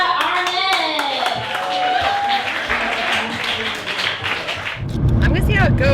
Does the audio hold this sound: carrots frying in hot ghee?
no